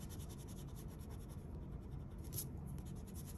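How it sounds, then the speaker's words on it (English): Pencil drawing being erased on paper during a still life sketch, a steady soft scratchy rubbing that runs continuously and fairly faint throughout, with no talking. "So I'm gonna erase this."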